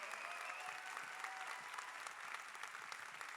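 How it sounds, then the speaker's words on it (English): Audience applause closing a convention panel at a comic con, a sustained dense patter of many hands, fairly quiet and even from start to end. "Round of applause, thanks."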